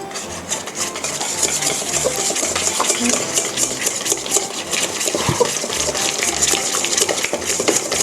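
Salted butter at room temperature being stirred in a bowl, a steady close scraping and mixing with faint clinks, continuous for several seconds with no talking.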